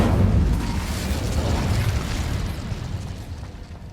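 Incendio fire spell in Hogwarts Legacy, a loud close burst that erupts at once and then rumbles and crackles away over a few seconds, with no talk over it.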